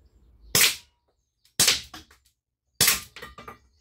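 Three sharp handgun shots fired while plinking outdoors, each a loud crack followed by a short echoing tail, spaced about a second apart with no talking.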